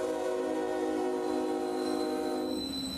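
A southbound Norfolk Southern freight train in central Georgia sounds a loud, sustained horn blast close by, with a rumbling undertone of the passing cars, then fades slightly near the end.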